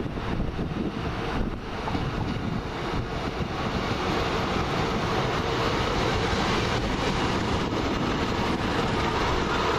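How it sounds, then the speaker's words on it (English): A four-carriage Northern Rail train approaching Salford Central station, a steady loud rumbling roar of wheels and engine that holds throughout with no voices. "Right, here comes my train coming around that corner."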